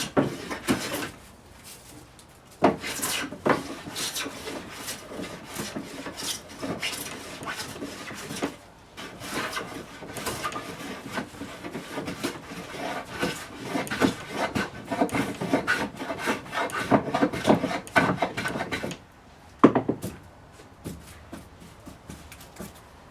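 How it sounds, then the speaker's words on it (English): Wooden boards, some of them twisted, are worked with a hand plane in repeated scraping, rasping strokes. The strokes come in irregular bursts with brief pauses, fairly close and moderately loud. "So, I finished planing the boards."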